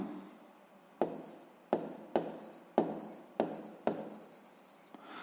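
A pen writes on paper while working a school maths exercise, giving about seven close, quiet bursts of scratching strokes with short pauses between them and no talk.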